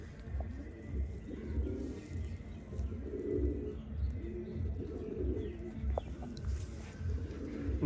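Golden pigeons kept as show birds coo in soft repeated low rolls, close and steady, with a faint clucking fowl-like call now and then and no voices.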